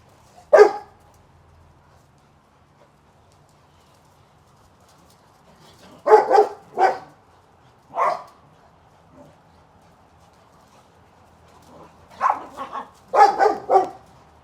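A playful dog throws its head back, giving short barks and howls in separate bursts: one near the start, a cluster in the middle and a rapid series at the end, close and loud with quiet gaps between.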